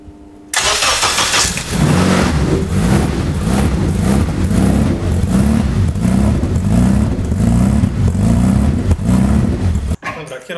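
Lotus Exige race car engine fires up and settles into a loud, steady running note with rhythmic pulsing, close by, holding for about ten seconds before cutting off abruptly near the end.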